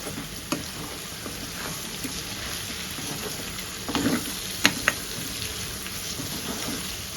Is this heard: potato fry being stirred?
yes